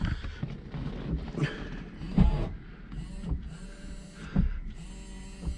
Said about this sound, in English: Rear wiper.